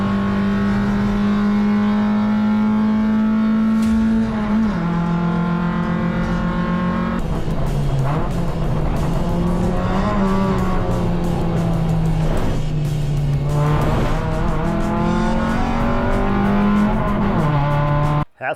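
An enduro race car fitted with a 2.5-inch mandrel-bent race exhaust revs loudly and close, holding a rough steady drone, then blipping and rising in repeated surges before cutting off at the end.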